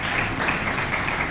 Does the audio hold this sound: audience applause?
yes